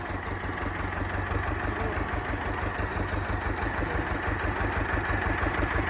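A fully restored 1954 Fordson Major tractor, built in England, idles with its engine close by. It gives a steady, even low chugging pulse that stays constant throughout, with no talking.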